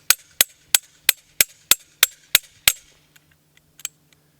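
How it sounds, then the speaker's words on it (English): A hammer strikes the edge of a Robinson Armament XCR rifle nine times in quick, even succession, each a sharp, close metallic crack, followed by a couple of fainter taps. "Trying to hit it on the edge of the hammer."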